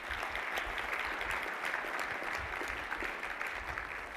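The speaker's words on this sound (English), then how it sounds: "Let's give him a round of applause." Steady audience applause fills a university event honoring urban scholars, a dense continuous patter of many hands clapping at moderate distance, with no pauses or talk over it.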